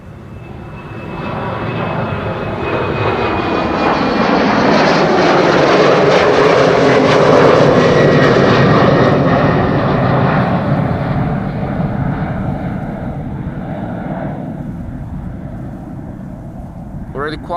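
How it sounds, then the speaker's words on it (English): An Embraer jet climbing out of Amsterdam Schiphol bound for Kristiansand roars loudly overhead, the engine noise swelling to a peak midway and then slowly fading as it gains height. "And the Embraer to Kristiansand, check it out, lightweight."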